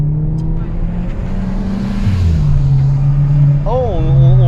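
Audi A3 S line at full throttle, a loud close engine roar that climbs steadily in pitch, with a person speaking over it toward the end.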